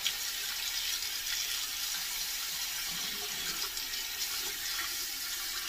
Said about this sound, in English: Run a little hot water over the stainless.